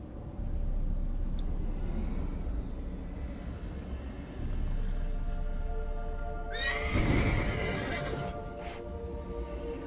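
A horse in the game Witcher 3: Blood and Wine gives a loud, clear whinny partway through, over steady game ambience and soft hoof clops.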